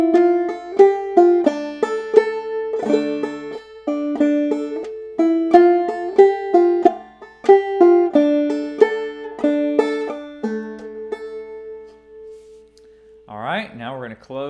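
Banjo picks out the tune Hog Eyed Man in clear, plucked notes at a moderate steady rhythm, played alone and close, ending with a short bit of speech.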